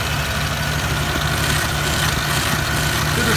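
A 1988 Mercury Cougar V8 idles steadily and close by, with a fan faintly rubbing against its shroud, a continuous low hum and rumble that never breaks.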